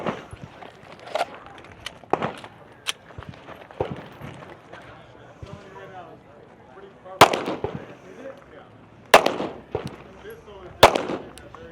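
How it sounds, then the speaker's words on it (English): Pistol fire on a men's elite stage at a regional shooting competition in Idaho: several sharp, loud reports at irregular intervals amid quieter activity, with voices talking in the background. "And then 10 more with the pistol."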